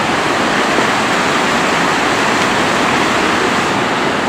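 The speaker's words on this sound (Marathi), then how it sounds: "या ब्रिजच्या वरतून सुद्धा पाणी जातो" River water rushing over a bridge in the countryside, a loud, continuous broadband roar of flowing water with no breaks, heard close and alone.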